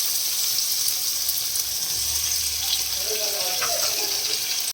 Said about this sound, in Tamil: இப்போ நம்ம இதில் கத்திரிக்காய், முருங்கைக்காய் ஆட் பண்ணி நல்லா வதக்கிக்கலாங்க.